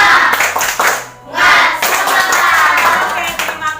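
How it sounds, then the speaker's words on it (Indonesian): Children in a primary school classroom perform a rhythmic spirit clapping routine, loud close claps in patterned bursts with a brief pause near the middle, chanting voices running alongside. "ice breaking kita pada hari ini adalah melakukan tepuk semangat"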